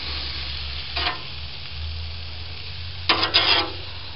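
Burgers sizzle on a small charcoal grill with a steady low crackle, broken by a brief scrape near the start and a louder burst of spatula scraping toward the end.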